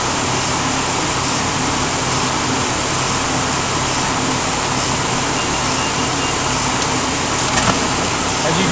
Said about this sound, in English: It'll then pull it through the press.